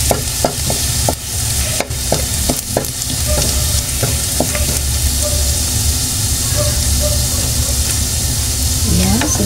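Garlic frying in hot leftover oil in a pan for eggplant adobo, a loud continuous sizzle with sharp scraping and tapping of a spatula early on, close and alone.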